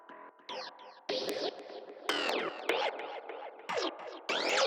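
Synth sound run through both modulated filters of a filter plugin, producing choppy rhythmic notes with bright sweeping, wiggly filter movement that grows busier and louder across the phrase, with no voice over it.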